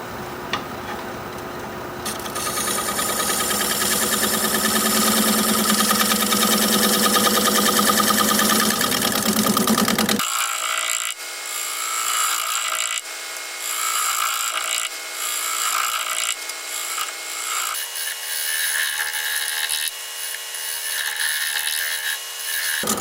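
A 1.5 inch scraper shears across California olive wood spinning on a lathe, a loud sustained rasp with a motor hum that drops away partway, leaving a thinner, uneven scraping tone.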